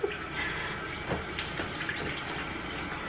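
Tap water runs steadily while a face is rinsed off during a natural skincare routine, a constant close splashing wash with a few brief louder splashes and no talking.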